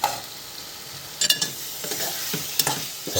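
Kingfish fries in a pan with a steady hiss and crackle, broken by a few sharp utensil clinks, nearby and with no voices.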